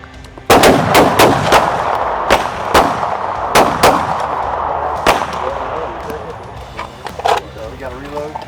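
A shooter fires a primary weapon on a range in sharp, loud, close reports, several in quick pairs and then single shots spread out, with a voice speaking between them.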